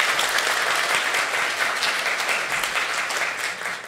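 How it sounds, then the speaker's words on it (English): A live audience at a Gen Con 2022 show breaks into dense, sustained applause, loud and close, many hands clapping together without a break for several seconds before easing slightly. "Round of applause for this guy here."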